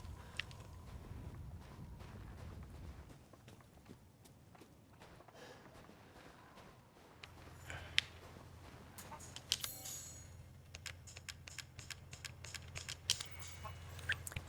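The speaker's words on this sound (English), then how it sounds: "Chickens!" Soft clucking and scratchy movement of chickens in Resident Evil Village, faint and close, over a low rumbling game ambience with scattered sharp clicks and no talk.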